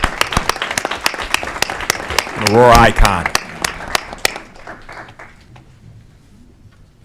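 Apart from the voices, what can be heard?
audience applause at council meeting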